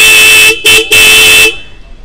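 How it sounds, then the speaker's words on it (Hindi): A loud, close Minda-brand motorcycle horn on a Royal Enfield Super Meteor 650 blares in three quick honks: a short blast, a brief one, then a longer one, and it cuts off sharply. "काफ़ी लाउड आपको हॉर्न मिलते हैं मिंडा ब्रांड के अंदर।"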